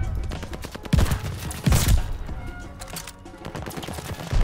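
Rapid rifle fire from a weapon used as a sniper in a shooter video game, several loud close shots in quick bursts over continuous game noise.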